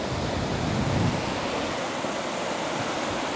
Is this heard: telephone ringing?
no